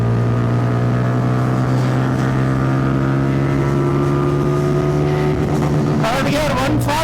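A cruiser motorcycle engine pulls hard in second gear, a loud, close, steady droning roar whose pitch climbs as speed builds, then drops sharply at a gear change near the end, with wind rush over it.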